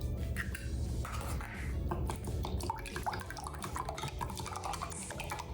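Eggs being beaten in a jug in a kitchen, a steady run of close clinking and sloshing strokes that carries on for several seconds over faint background noise.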